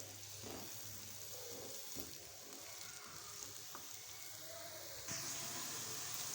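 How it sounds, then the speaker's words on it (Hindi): Finely chopped medium onion frying in hot oil gives a steady, dense sizzle throughout, with occasional stirring scrapes and a louder crackling rise near the end, no voices. "प्याज को हम अच्छे से फ्राई करेंगे।"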